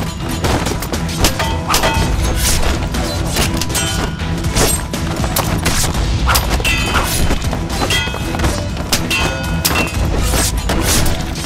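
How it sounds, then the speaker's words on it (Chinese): A celebration in a kung fu war film erupts into gunfire, with loud, dense cracks and crashes layered into a dramatic soundtrack that continues steadily throughout. "庆祝大会会上传来枪声"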